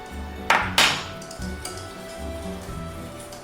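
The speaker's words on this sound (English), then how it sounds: "I'm gonna check with my spoon to see the consistency." A spoon clinks sharply against a pot of thickening sauce twice in quick succession, followed by softer scraping and stirring taps close by, with no talk.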